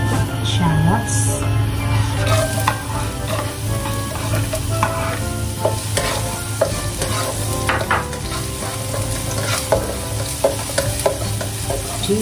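Shallots stir-frying in hot oil in a wok, a loud continuous sizzle with repeated scraping and clattering of a spatula, a voice speaking briefly over it.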